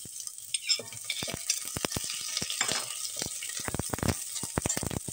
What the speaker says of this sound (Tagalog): unahin ko yung sibuyas